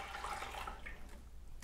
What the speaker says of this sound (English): I'm gonna fill the pot with about an inch of water